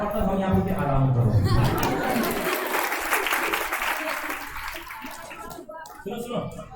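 Audience clapping at a conference in Gorakhpur, a dense burst of applause that swells and holds for several seconds, with a voice speaking over the start and murmuring continuing beneath.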